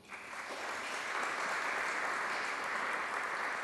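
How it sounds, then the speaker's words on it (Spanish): An audience applauds to welcome a speaker at a Catholic talk, a steady, even wash of clapping that swells in at the start and holds at a moderate, slightly distant level throughout. "vamos a darle la bienvenida con un fuerte aplauso"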